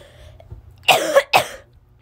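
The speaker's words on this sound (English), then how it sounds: "I cough like a little kid." Two quick, raspy coughs from a person sound close and distinct after a short quiet pause.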